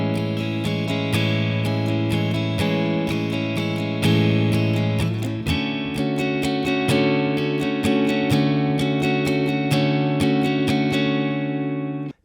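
A guitar strums the intro chords of a song in a steady rhythmic pattern with bright sustained chords, clear and close with no voice.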